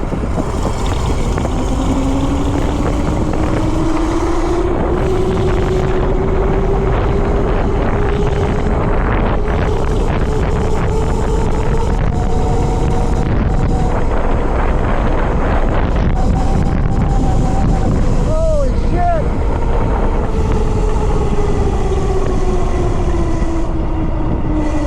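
A FreeGo X-2 electric bike at top speed, with a steady electric motor whine rising slowly in pitch under heavy, constant wind roar buffeting the microphone, loud and continuous throughout.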